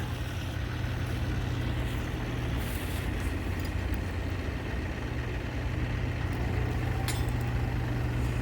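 A tractor drags a heavy felled, chained tree, producing a steady, loud engine drone under strain that holds constant throughout, with no talking.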